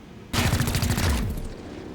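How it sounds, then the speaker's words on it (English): A burst of rapid automatic gunfire in the video game XCOM, loud and close, lasting about a second before trailing off into a fading rumble. "We're gonna shoot this guy."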